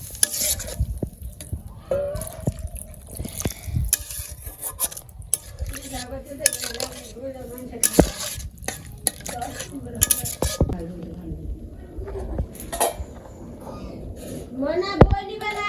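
Spiced potatoes frying for aloo dum as water goes in, with steady sizzling, clinks of a spoon against the pan and stirring scrapes, while voices talk over the kitchen sounds throughout.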